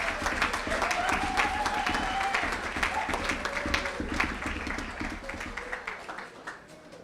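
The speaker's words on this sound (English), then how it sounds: "Let's give them a round of applause." An audience at a fall sports banquet claps and applauds for the cheerleaders, dense sustained clapping that slowly thins out, with a few voices rising over it.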